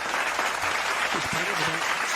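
Scattered clapping from a gallery in the PGA Tour 2K23 golf game, a steady broadband patter lasting a couple of seconds, with a voice speaking over it.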